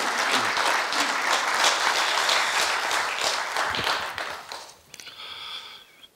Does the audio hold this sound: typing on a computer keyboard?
no